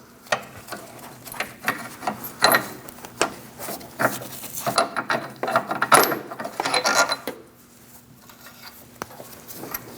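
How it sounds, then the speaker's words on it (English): Bolts being removed with an 18mm ratchet wrench from a lower control arm mounting bracket on a 2000-2006 Mini Cooper, heard as a run of close, sharp metallic clicks and taps in irregular bursts that go quieter toward the end. "Now we're going to remove our bolts"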